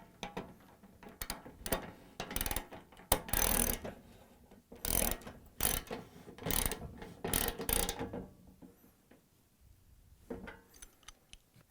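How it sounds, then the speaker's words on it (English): A 13/16 socket wrench ratchets to tighten a Venturi nut on a Bosch, Thermador or Gaggenau cooktop burner, giving quiet close clicking bursts in irregular strokes with short pauses, no talk. "now we're going to tighten them with the 13/16 socket wrench"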